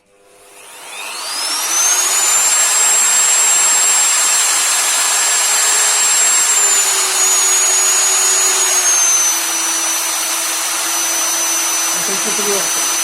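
An Interskol MF 40/1000E wood router with a six-step speed switch spins up from a standstill into a loud, steady high-pitched whine that holds for over ten seconds, its pitch dropping slightly as the speed is lowered toward the end.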